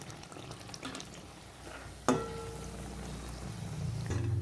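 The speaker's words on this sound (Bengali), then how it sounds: "চলুন বেগুনিটা ভাজা হোক এরপর আমরা ওলট পালট করে ভাজবো" Eggplant fritters sizzle steadily in hot oil, a constant crackling hiss with a sharp clatter partway through.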